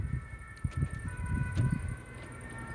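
A fire engine siren wails steadily during a strong thunderstorm on 29 June 2023, moderately loud and continuous over low rumbling storm noise throughout.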